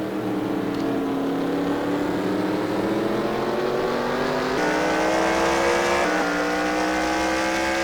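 Race car at Martinsville short track accelerating hard off a corner, a loud continuous engine roar with rising harmonic pitch and shifts, close and steady with no voices.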